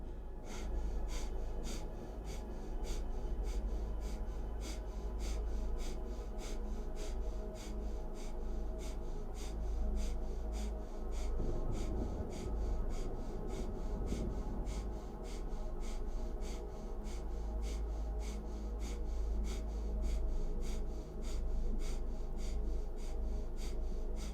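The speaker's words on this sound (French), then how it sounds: "Respiration de feu puissante et rapide." Rapid, powerful breath-of-fire breathing from a Kundalini yoga practice, with forceful nasal exhalations pulsing in a fast, even rhythm that continues steadily throughout.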